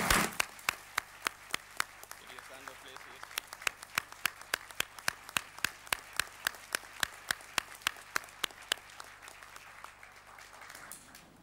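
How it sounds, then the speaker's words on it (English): Audience applause in a conference hall at a human solidarity forum honoring host country leaders, sustained sharp claps, fairly light and sparse, alone without talk. "give us a round of applause for our host country leaders who have made Habitat 2 possible."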